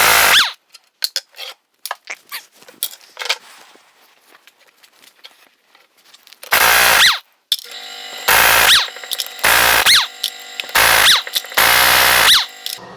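An impact-type power tool pulls parts off a rat-infested Corvair 140 engine in a series of about six loud, short mechanical bursts in the second half, after quieter clinks and rustling of work.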